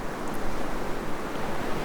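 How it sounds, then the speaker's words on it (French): Ocean waves wash steadily as a continuous broadband surf roar, close and fairly loud with gentle swells, with no voices. "Je vais laisser le son des vagues continuer encore quelques minutes après que la vidéo soit terminée"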